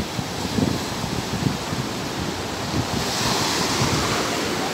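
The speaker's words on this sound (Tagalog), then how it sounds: "Malakas din yung" Ocean surf roars steadily on a Zambales surfing beach, swelling slightly toward the end, with wind buffeting the microphone and no one speaking.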